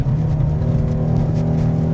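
Ford Shelby GT350R engine drones steadily and loudly at sustained revs while being driven hard on a race track, a continuous close-miked hum with no speech over it.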